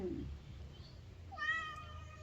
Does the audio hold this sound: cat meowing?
yes